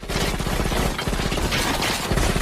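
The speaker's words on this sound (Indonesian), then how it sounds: "Namun para anak buah Durian menembaki Ipkish yang berlindung di balik tembok" Rapid gunfire from henchmen shooting at a man sheltering behind a wall in the film The Mask, a dense, loud fusillade of overlapping shots continuing throughout.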